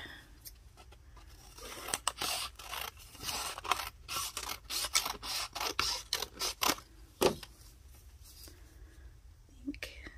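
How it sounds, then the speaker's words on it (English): Herb scissors snip through a small piece of paper in a run of sharp, close cuts, bunched in quick bursts with short pauses, while a soft voice murmurs in between. "these are herb scissors, and I'm going to use that to create some cuts"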